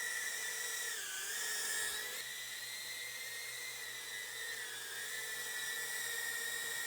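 GEPRC TinyGO FPV drone hovering indoors, its tiny props giving a steady high-pitched whine that bends in pitch as throttle shifts, close and constant, with a room fan humming underneath.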